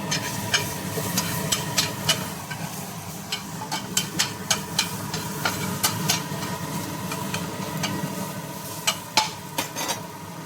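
Chicken fries in a pan with steady background sizzle, while a metal spatula stirs and scrapes, producing frequent sharp clinks and clacks at an uneven pace.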